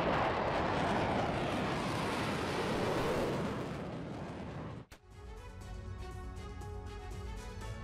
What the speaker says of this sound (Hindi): युद्ध के मैदान में रूस का हवाई हमला, सुखोई 25 से रूसी सेना की बमबारी की खबर